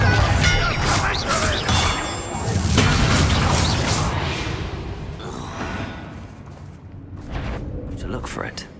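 Confringo blasting spell in Hogwarts Legacy, with loud booming explosions and crashing impacts that roll through a busy, dense combat soundscape while a voice talks over them.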